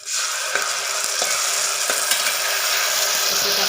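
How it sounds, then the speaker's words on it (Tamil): Tomatoes sauté loudly in a hot pan for vegetable kurma with green chillies, a dense continuous sizzle with faint occasional stirring taps, close and alone. "இப்போ தக்காளி நல்லா பச்சை வாசனை போகிற வரைக்கும் நல்லா வதங்கட்டும்"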